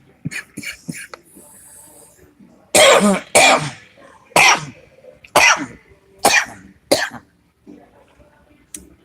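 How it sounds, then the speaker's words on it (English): Repeated harsh coughs from a man with a wintertime cold, several sharp bursts in a row with short pauses between, close and loud, some softer throat sounds early on. "there will be plenty of coughing"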